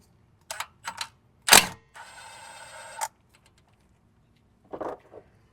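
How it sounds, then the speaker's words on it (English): A 12 mm brake hose bolt comes off a Lexus RX330/350 during a brake pad and rotor job: several sharp close clicks of the tool, a short buzzing ratchet run, then a couple of faint metallic taps after a pause. "we're going to take off this 12 millimeter bolt right here"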